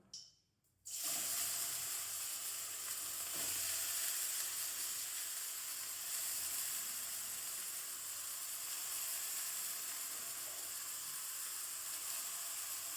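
Carrots frying in a hot pan, a steady loud sizzle that begins abruptly after a brief quiet start and continues unbroken, close and alone.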